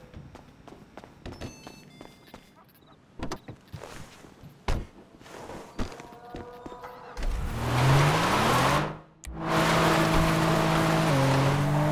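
A car in GTA 5 drives off after scattered footsteps and small knocks, its engine rising into a loud steady drone with shifting pitch, briefly cutting out before resuming.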